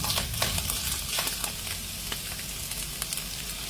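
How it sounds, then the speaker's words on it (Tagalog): Garlic, onion and shredded chicken fry in a pan, a steady close sizzle with crackling pops and occasional stirring scrapes throughout, no voices. "add garlic, onion, and cook shredded chicken."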